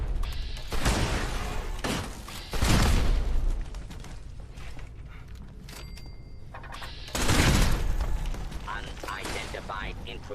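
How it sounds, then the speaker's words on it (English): Automated turret gunfire in Fallout 76, two loud sustained volleys of rapid shots with clattering mechanical noise between them, and a voice talking over parts of it. "Clear out the turrets before hitting the button."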